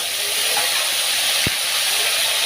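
Ripe tomato hitting hot oil with a bay leaf in the pan, a loud, even, steam-like hiss that fills the whole moment and carries one sharp low knock partway through.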